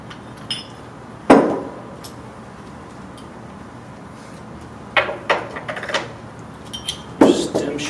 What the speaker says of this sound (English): just give it a little push, and it'll pop out your end caps. Pop out your seats and ball.